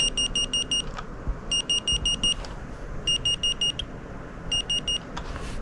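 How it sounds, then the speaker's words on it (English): Bursts of rapid high-pitched electronic beeps from a Minolta film camera's autofocus warning, signalling the subject is too close, repeat in four evenly spaced groups, sharp and clear over a low background rumble. "Series of beeps when you were too close to your subject,"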